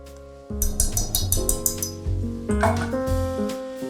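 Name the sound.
scraping dough off a wooden spoon into a bowl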